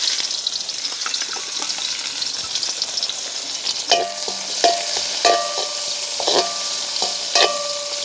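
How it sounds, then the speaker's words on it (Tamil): Onion frying in hot oil on a griddle, a loud, steady sizzle with repeated sharp metallic scrapes and taps of a spatula falling into a rough rhythm in the second half. "கொஞ்சமாக வெங்காயம் போட்டுக்கொள்ளுவோம்."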